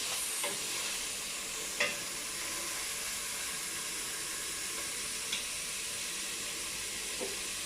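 Fried rice sizzling in a pan while being stirred, a steady close frying hiss with a few faint scrapes and clinks of the utensil, no talk.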